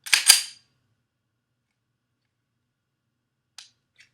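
A handgun slide racked after loading the magazine makes a quick pair of sharp metallic clacks close by, followed by silence and then two faint clicks.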